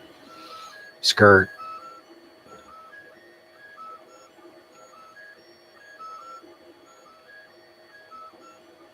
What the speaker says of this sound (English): now we got the actual part itself printing